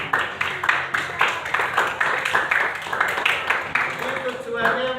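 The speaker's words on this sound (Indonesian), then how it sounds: "Tepuk tangan buat kalian." Applause for schoolchildren in an elementary school classroom: a group clapping steadily and fairly close, with voices mixed in throughout.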